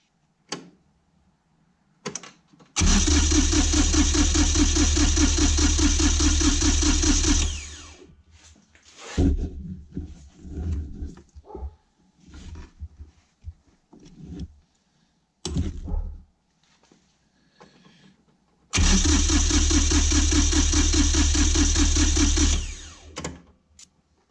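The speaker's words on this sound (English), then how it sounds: "We're going to crank it over." A Kioti tractor engine is cranked by its starter but does not fire, with a faulty lift pump losing fuel prime. Two loud, steady cranking runs of about five and four seconds are separated by quieter clicks and handling noises.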